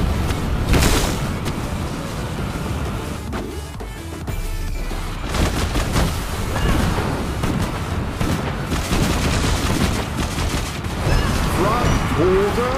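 Gunfire and explosions in the mobile shooter game FRAG Pro Shooter, a dense continuous barrage of shots and booms with intermittent speech-like game voice lines mixed in.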